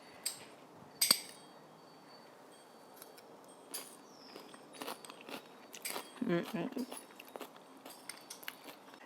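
Crunchy bites and chewing of a chickpea salad with cucumbers during a taste test, along with small clinks of a tiny bowl and utensil, faint and close, in uneven bursts.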